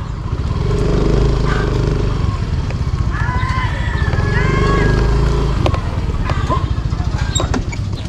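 A motorcycle engine drones steadily nearby throughout, with people talking over it.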